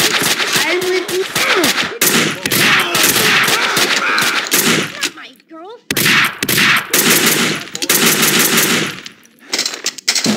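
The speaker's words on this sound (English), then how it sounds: "Someone must have heard the gunfire." Loud, sustained machine gun fire in the video game Max Payne 2, dense rapid bursts nearly continuous with a brief pause, close and dominant.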